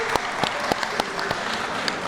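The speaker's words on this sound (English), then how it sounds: "could we just give a round of applause?" Applause at a community engagement meeting builds into a steady roomful of clapping, with a few louder individual claps standing out near the listener and faint voices underneath.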